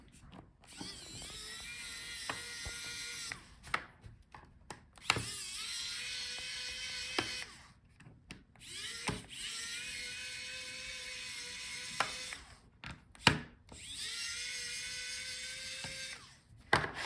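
Bursts of a small electric screwdriver whirring as screws come out of the bottom panel of a Dell Inspiron 5402 laptop, several separate runs of a few seconds each with short pauses between, close and fairly quiet.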